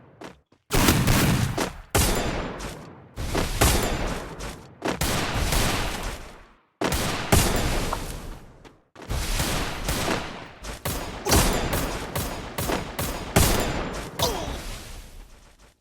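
Gunfire rattles in the mobile shooter game Free Fire, loud repeated bursts of rapid shots separated by short silences, dense volleys packed together near the end.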